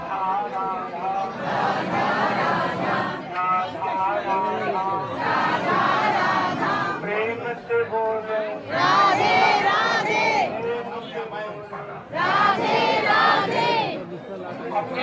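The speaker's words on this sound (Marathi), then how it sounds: "ही गर्दी बघा मंदिराच्या बाहेरची." Crowd waiting outside the temple in Vrindavan for darshan behind barricades, a loud mix of chatter and chanting or shouted calls rising in waves, with voices talking nearby.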